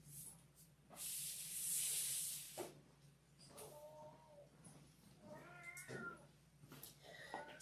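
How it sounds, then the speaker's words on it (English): A pet cat named Lana meows a few times at moderate distance in a quiet room, short rising cries around the middle and end, with a brief burst of broadband hiss-like noise early on. "don't know if you're going to hear the meowing in the background, but that's Lana"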